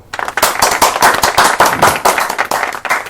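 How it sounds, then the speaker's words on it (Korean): A small group claps briefly and briskly, with sharp, close hand claps in quick bursts lasting about three seconds. "박수."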